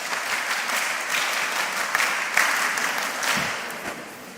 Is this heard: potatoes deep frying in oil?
no